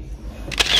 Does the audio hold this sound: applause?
no